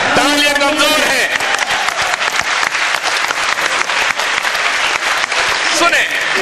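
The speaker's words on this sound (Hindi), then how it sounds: "तालियां कमजोर है" Loud, dense applause from a large crowd at an open-air mushaira poetry evening, continuous throughout, with a voice speaking over the start and briefly again near the end.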